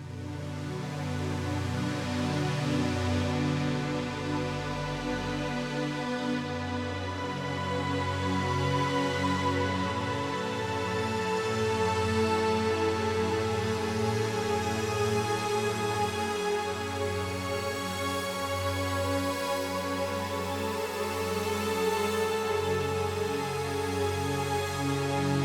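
An ethereal synth pad built in VPS Avenger 2 with multi-band distortion boosting the highs and mids, a dense sustained wash of layered tones drifting gently, steady and moderately loud with no voices.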